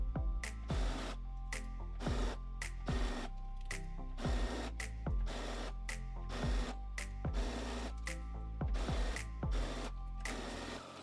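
A sewing machine stitches a ruffle between layers of fabric for a scrunchie, running in a steady series of short, rapid stitching bursts with brief stops over about eleven seconds.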